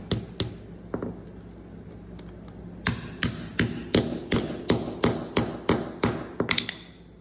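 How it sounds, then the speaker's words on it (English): Metallic hammer taps knocking a socket into a 1958 Plymouth dashboard, a few scattered strikes and then a steady run of about a dozen sharp, ringing blows on metal, close and loud. "I'm just gonna try to take a hammer and knock it in there."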